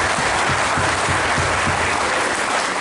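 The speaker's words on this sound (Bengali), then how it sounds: "সবাই হাততালি দিন" A crowd at a health camp claps in dense, continuous applause that holds steady and fairly loud throughout, with no voices on top.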